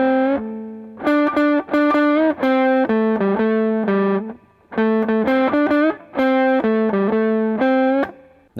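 An electric guitar with distortion plays a solo box pattern an octave lower, a loud run of sustained and bent notes in two phrases with a short pause between.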